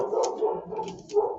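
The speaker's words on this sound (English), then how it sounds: "Sorry about the dog barking." A dog barking indoors in a few short, moderately loud yelps spread over a second and a half, with no talking.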